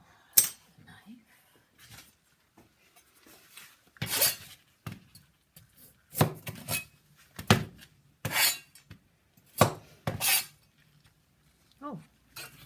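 Knife cutting vegetables for soup in a home kitchen: a series of sharp chopping clicks and taps on a board, irregularly spaced with quiet gaps, fairly close and moderately loud.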